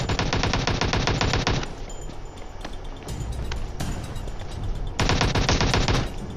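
Rapid automatic gunfire in PUBG Mobile comes in two dense, loud bursts, each about a second and a half long, with quieter scattered shots and rattling between them.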